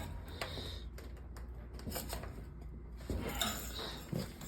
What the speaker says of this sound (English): Let's get a putty knife. We're going to pop this off.